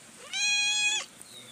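A cat gives one clear, loud meow lasting under a second, close by, with quiet household background before and after.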